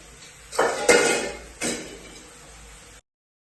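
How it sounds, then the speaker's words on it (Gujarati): Dishes and utensils clatter during kitchen cleanup at home, with three sharp clanks of metal pots and steel vessels over a running background hiss of water or handling. "વાસણ ધોઈ નાખે."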